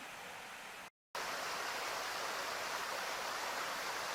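A small creek pours over the spillway of a beaver pond on its way to the Ausable River, a constant, close rushing roar with one brief dropout to silence.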